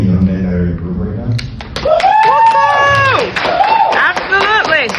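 An audience at a live panel discussion claps and cheers for the young men in the room. A loud mix of applause and whoops is heard under and between raised voices and excited shouting.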